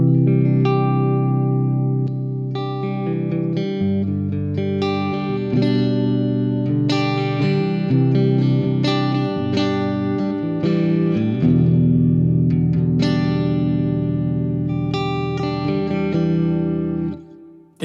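Electric guitar through the Neural DSP Archetype Nolly clean preset plays a continuous passage of chords and picked notes with chorus-like shimmer and reverb, steady and prominent throughout.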